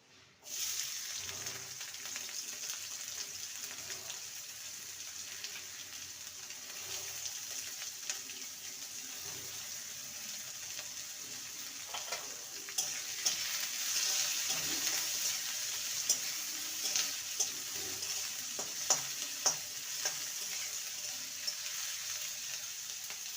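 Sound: onions frying in mustard oil in a wok

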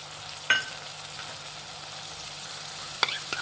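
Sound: chilli chicken frying in pan with sauces

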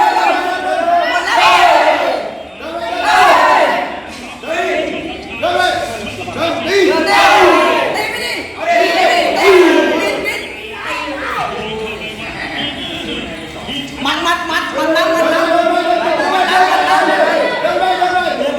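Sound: cheering squad shouting and cheering at a Muay Thai fight

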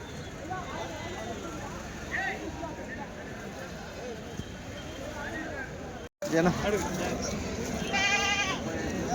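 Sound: goats bleating at a livestock market

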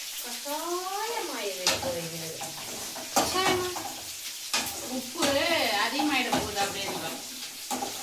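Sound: sautéing food in a pan

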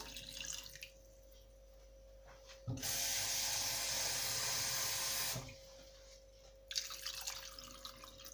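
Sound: pouring drinking water into a pot

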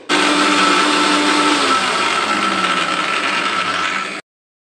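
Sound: mixer grinder blending henna, aloe vera and lemon juice

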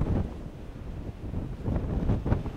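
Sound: strong wind at the winter sea

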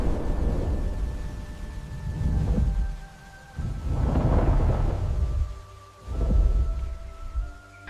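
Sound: thunderstorm with thunder

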